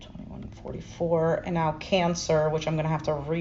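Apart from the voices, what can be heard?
No everyday noises stand out.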